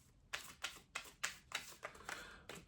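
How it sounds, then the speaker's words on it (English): Tarot cards shuffled by hand in a run of about eight crisp riffling bursts, each a short papery flutter spaced roughly a third of a second apart, close and fairly quiet with no talking. "I just felt like we had to give it a really good shuffle."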